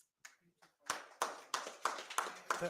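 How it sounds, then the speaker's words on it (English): Audience applause for a newly announced president of AM4C, a crowd clapping in uneven bursts that swell after a few scattered claps, fairly close. "Another round of applause for the President."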